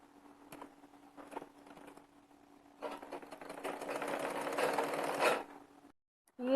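A domestic sewing machine stitches the shoulder seam of a kurti with piping, running in a few short bursts before settling into one loud continuous whir of needle strokes.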